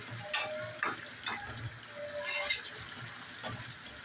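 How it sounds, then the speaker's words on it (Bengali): Fried sarputi fish (olive barb) going into a pan of radish curry, with a steady low sizzle broken by several sharp scraping stirs, close and moderately loud, with no talking. "এখন এই যে সরপুঁটি মাছ ভেজে রাখাটা দিয়ে দিচ্ছি।"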